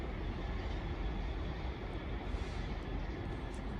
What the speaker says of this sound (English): That northern service that has just come in is bound for the Sheffield branch